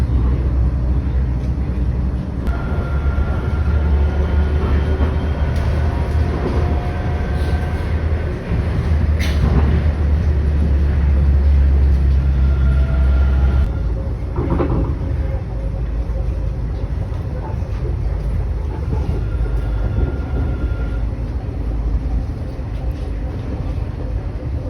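Riding the free airport rail train at Soekarno-Hatta Airport brings a continuous low rumble of the carriage rolling on the track, with occasional clanks and a voice talking over it throughout.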